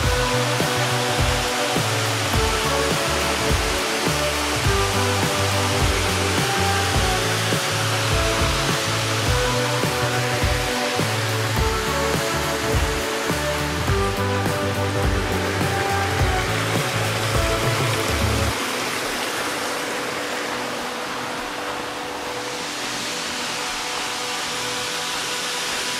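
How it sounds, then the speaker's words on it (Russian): Karekare waterfall near Auckland, New Zealand, roars as a constant broad rushing wash, overlaid for most of its length by a steady tonal hum that drops away, leaving the water noise alone. "А вот и водопад Кары-Кары!"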